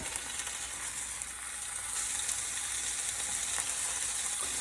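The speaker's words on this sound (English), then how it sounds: "I'm going to throw a few pieces of bacon in there." A few bacon pieces frying in a hot pan, giving a steady crackling sizzle that grows a little louder partway through, with no voices.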